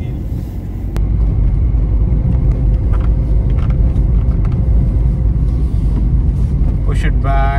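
A Ford Aspire car climbs a curvy hill road at about 50, its engine and road rumble droning loudly and steadily from inside the cabin, with a few faint clicks near the end.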